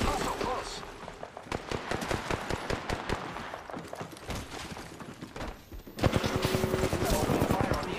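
Rapid bursts of automatic gunfire from a battle royale shooter game crackle in dense volleys through most of the stretch, with brief pauses and a louder, busier exchange near the end.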